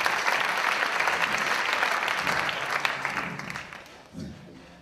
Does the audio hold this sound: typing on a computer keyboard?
no